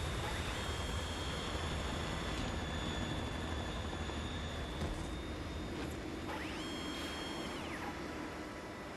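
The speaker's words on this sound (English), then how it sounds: "They're going all out with the Harrier." A Harrier jet attacks in Metal Gear Solid 2, its engine a steady loud whine and roar with high tonal streaks that rise and fall as it maneuvers, heard alone without talk.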